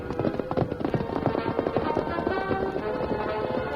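Horse hooves clip-clop at a fast gallop as a sound effect in an old radio western drama, a steady rapid rhythm with some crackly background, no voices over it.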